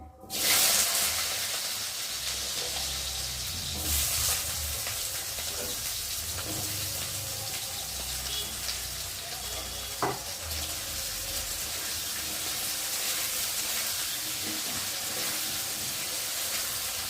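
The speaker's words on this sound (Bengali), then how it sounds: "তো চলো এখন আলুগুলো দিয়ে ভালো করে ভেজে নেব" Potatoes fry in a pan for a banana-flower (mocha) dish, giving a steady, close hiss of hot oil that runs unbroken throughout, with a few faint clinks and no talking.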